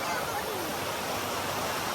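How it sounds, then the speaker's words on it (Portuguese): Andorinha waterfall in Pirenópolis, Goiás, rushes as a steady, loud broadband roar throughout, with faint voices. "Essa é a cachoeira da Andorinha."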